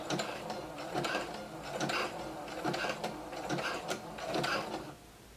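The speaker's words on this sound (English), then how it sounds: "go ahead and begin sewing. And then you want to back stitch" Close, rhythmic mechanical clatter of a sewing machine stitching forward and back over knit fabric to secure elastic on a maxi dress, several even pulses ending abruptly.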